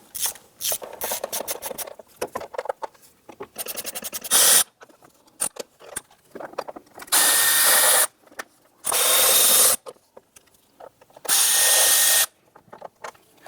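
Power tool on a 2007-2012 Nissan Versa engine removing valve cover bolts, with several loud, sustained whirring bursts of a few seconds each separated by pauses, mixed with clinks and handling noises close up.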